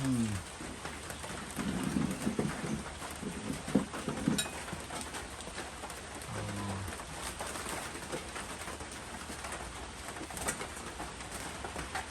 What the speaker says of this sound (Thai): วันศุกร์ฝนละรึม ละรึม